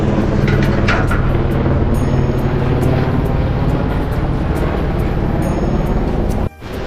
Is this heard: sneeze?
no